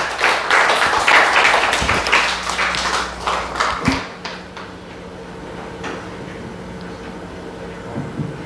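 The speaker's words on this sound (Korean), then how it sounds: "우리 박수로 환영할게요." Church audience applause welcoming a young speaker returning from two years in the Philippines, with dense clapping for about four seconds that then fades into quieter room noise.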